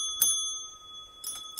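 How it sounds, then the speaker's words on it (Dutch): Two quick rings of a small bicycle-style bell during a live broadcast test, bright and clear with lingering ring tones, close and alone. "Test eventjes of het belletje doet."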